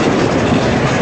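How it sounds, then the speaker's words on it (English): A Durango and Silverton train switching, a loud, steady rumble of rail cars with faint clickety-clack close by and no voices. "I got the last footage of this train switching"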